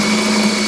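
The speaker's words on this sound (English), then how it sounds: "take a number 10 or number 11 drill bit. These two rivets here got to come out." A drill fitted with a number 10 or 11 bit whines steadily while boring out factory rivets on a Sidewinder snowmobile tunnel, a loud, close, continuous high motor hum with no voices.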